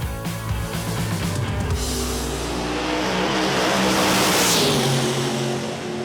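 An Australian fuel altered drag car with a Brad Anderson 413 engine revs hard, a loud rough roaring engine note that swells and holds steady across the whole stretch, close and alone.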